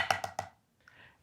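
Three quick sharp snare drum strokes in a fast triplet, the first slightly doubled as a flam, followed by a brief softer buzz rattle; close and fairly crisp.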